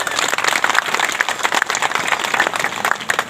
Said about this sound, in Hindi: बिल्कुल तालियां बजा दीजिए, ठीक है ना।